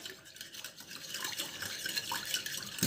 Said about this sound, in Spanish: Vamos a mezclar